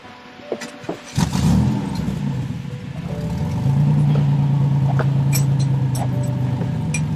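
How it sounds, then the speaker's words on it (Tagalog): A car engine cranks and catches at a mechanic's shop, a short burst of starter noise followed by a steady, loud idle that grows after a few seconds. "Sir, paki-start nyo yung kotse nyo."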